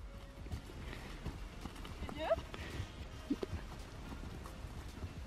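A horse trotting on a diagonal in foggy outdoor conditions, its hooves giving soft rhythmic clip-clops under steady background noise, with a brief whinny-like call and people talking nearby.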